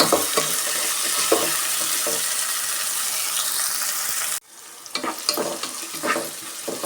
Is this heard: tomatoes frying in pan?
yes